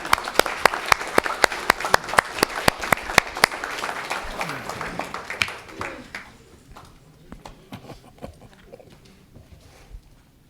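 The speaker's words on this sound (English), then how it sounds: "Let's give him a round of applause." Applause at a city commission meeting, a steady patter of hands in a large room that thins out after about five seconds into a few scattered, fading claps.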